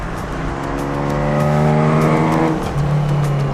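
An old Ford Capri drives hard on a race track, its engine loud and close as it revs up, then lets off and settles into a steady drone.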